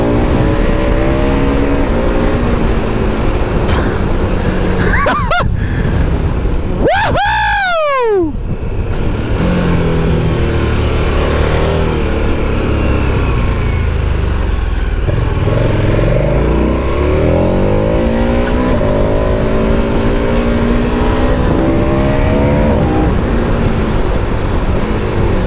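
A KTM 1290 Super Adventure S motorcycle engine revs hard and accelerates through the gears, a loud, sustained roar with rising and falling pitch sweeps, rushing wind underneath, and a brief vehicle passing closely near the middle.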